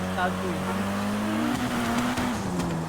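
A video game car engine drones and shifts pitch as it drives and revs, with talking over the top.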